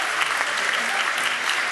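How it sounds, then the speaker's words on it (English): Dense, steady applause from an audience fills the whole moment, loud and continuous with no voices standing out. "How about another round of applause for this incredible..."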